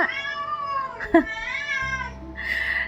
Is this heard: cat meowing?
yes